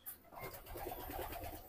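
A racing pigeon, a Speedbird breeder hen, gives a soft, throaty cooing burst close by, faint but clear in a quiet setting.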